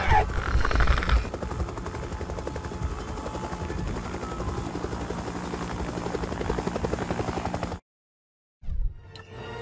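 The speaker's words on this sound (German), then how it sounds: "ist ein Hubschrauber." A helicopter in the video game LEGO Jurassic World gives a loud, steady rotor drone that carries on for several seconds, then cuts out abruptly into silence before game sound returns.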